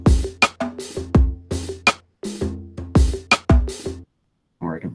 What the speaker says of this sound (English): We're going to play their drum beat,